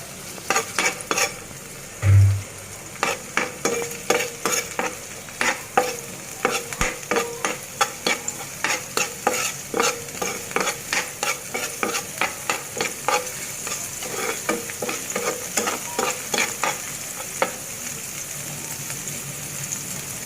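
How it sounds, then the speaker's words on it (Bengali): Onion, garlic and green chillies sizzle steadily in hot oil while a spatula scrapes and stirs the pan in a quick, repeated rhythm, close and moderately loud, with a single low thump early on. "পেঁয়াজ রসুন ভাজা একদম হয়ে গিয়েছে, এভাবে ভেজে নিতে হবে।"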